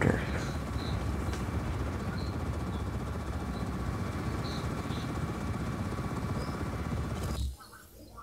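Helicopter in the video game Just Cause 4, a steady whirring engine drone held at even loudness throughout before cutting off abruptly near the end.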